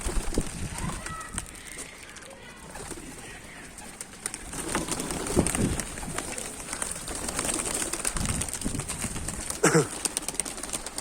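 Kara Baska pigeons cooing at feeding time, soft repeated coos with occasional bursts of wing flapping, fairly quiet and close, with no talk over them.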